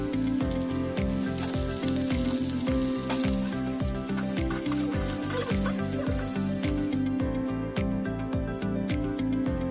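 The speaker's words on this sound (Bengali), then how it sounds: "এরপর আলুগুলোকে ভালো করে ভেজে নিলাম" Potatoes sizzle steadily in hot oil while frying for an egg curry, a continuous close crackle with a rhythmic background music track running beneath it.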